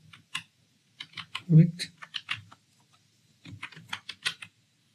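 JavaScript code is typed on a computer keyboard in sparse, crisp keystrokes grouped into short bursts with gaps, while someone speaks softly between them.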